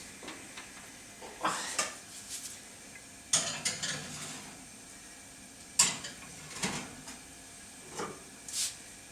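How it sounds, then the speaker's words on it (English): Cake pans for a brandy-spiked chocolate eggnog cake are set into an oven, with several sharp metallic clanks and knocks of pans and racks spread over the moment, fairly close, with quieter rattles between. "we're going to put them in the oven"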